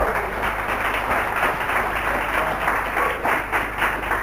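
An audience at a business seminar applauds, with steady, moderately loud clapping that keeps going at an even level and a faint low hum underneath.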